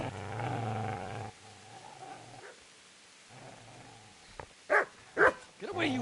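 A dog growls low and steadily in Kingdom Come: Deliverance, loud at first and then fading into quieter rumbles. A few short, sharp sounds follow, which could be yips or a voice.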